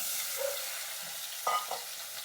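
Sliced beans and potatoes frying in oil in a pan, a continuous close sizzle with a few brief scraping knocks of a spatula turning the pieces.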